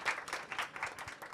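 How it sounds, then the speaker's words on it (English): Audience applause at a climate education conference panel, a faint spread of scattered hand clapping that continues briefly after a panel session. "Round of applause."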